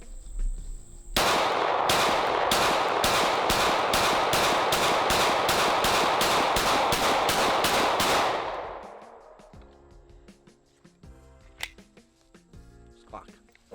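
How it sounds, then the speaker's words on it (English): A stock Glock 17 Gen 5 pistol fires a fast, even string of about sixteen loud, sharp shots at a 25-yard outdoor range, then the sound drops to quiet. "Glock 17 Gen 5, all pretty much stock right here. See how it is, and we're at 25 yards now"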